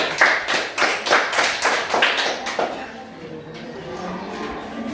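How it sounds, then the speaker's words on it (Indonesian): A classroom group of students applauds with a burst of rhythmic clapping for about three seconds that then fades into quiet room noise, with a teacher's voice faintly present. "saya minta kelompok 1 kita berikan tepuk tangan dulu"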